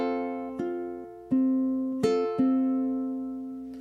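Ukulele picking out the opening bar of a song's melody alone, five or six clear plucked notes in steady quarter-note rhythm, each ringing and decaying before the next, close and moderately loud.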